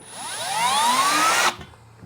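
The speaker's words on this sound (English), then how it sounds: "just with a small drill bit, to see if I can just yeah, cut it through with that" A power drill with a small bit bores through material while fitting a rack to a Kove 450 Rally motorcycle, its whine rising steadily in pitch before cutting off abruptly, followed by a brief quiet tail.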